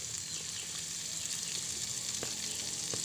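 Spring onions stir-fried with rice vermicelli in a hot pan make a steady, close sizzle throughout, broken by a couple of sharp scraping taps from the stirring utensil.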